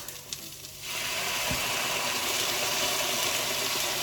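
Canned Rotel tomatoes hitting a hot pan with garlic: a sudden, steady loud sizzle that swells in after a quiet moment and keeps crackling evenly to the end.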